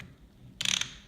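A RotechTools open-ended ratcheting wrench gives a short, close burst of rapid metallic clicks from its ratchet mechanism, lasting about a quarter second after near silence.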